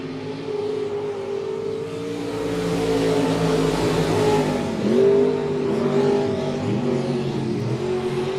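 Race cars lap at Monett Motor Speedway, with a loud continuous engine roar that swells as cars pass near the middle and then rises and falls as they circle the track.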